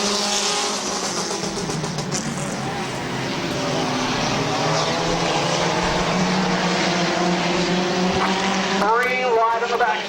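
Compact race cars drone around Midvale Speedway, engines steady and loud across the clip, with a race commentator's voice sitting in the mix.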